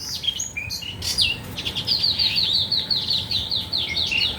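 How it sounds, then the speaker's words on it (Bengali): Small birds chirp and trill in a green village setting, a busy series of quick, high tweets repeating close by over a soft background hum. "মন জুড়িয়ে আসে পাখির ডাক"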